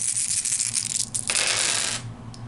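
Dice clatter and rattle during a combat round of a horror-themed board game, producing a steady, bright, hard rattling that rolls for about two seconds and then settles, with no talk over it.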